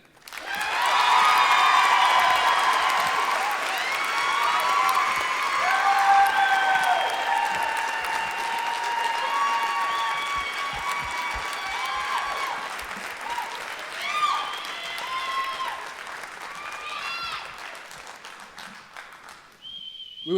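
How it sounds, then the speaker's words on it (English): Sustained applause and cheering from a fashion show audience honoring Sarah Bennett, loud and dense at first, then thinning into scattered clapping and a few whoops before fading out. "let's give a round of applause to Sarah Bennett"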